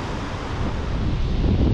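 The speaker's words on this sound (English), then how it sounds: "and it is very windy." Strong wind gusts roar across the shoreline of Valdez Peninsula, a dense, continuous rush mixed with the wash of surf nearby, swelling slightly toward the end.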